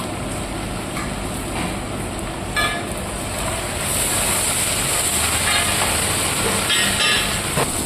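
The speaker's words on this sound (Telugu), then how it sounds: "ఇప్పుడైతే అల్లం పేస్ట్ అనేది ఫ్రై అయిపోయింది." Ginger paste frying in a pan with mutton, onions and a little garam masala for mutton curry, giving a steady, loud sizzling hiss that grows slightly stronger midway, with no voices.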